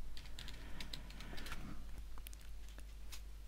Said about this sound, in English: I'm just typing the password.